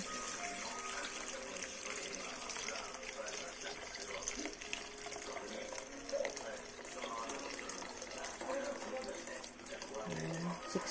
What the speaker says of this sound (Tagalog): I-add ko na yung 6 cups of water.